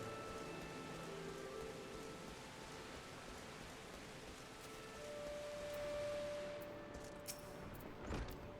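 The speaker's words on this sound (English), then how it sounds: "Oh, and it's raining." Steady rain falls in the video game Final Fantasy XIV, a constant soft hiss throughout, with a few faint tonal tones layered in and a small clatter near the end.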